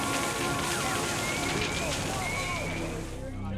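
Salt water from fire hoses pours onto burning building wreckage after the 1989 Loma Prieta earthquake on a Bay Area street, a continuous loud rushing, hissing roar with crackle and spray that fades slightly at the end.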